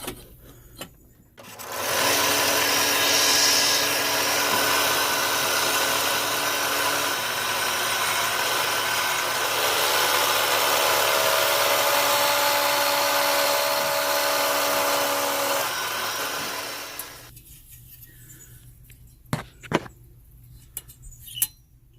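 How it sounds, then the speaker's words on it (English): A power drill whines steadily for about fifteen seconds, loud and close, drilling into a broken metal burner frame, then stops, followed by a few sharp metallic clicks and knocks. "I'm going to drill this top one first,"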